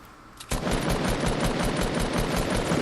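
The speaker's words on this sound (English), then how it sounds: "Alright, so I was trying to shoot his building down there." Fortnite Battle Royale gunfire erupts after a brief quiet moment, then sustained rapid automatic shooting continues loud and dense to the end.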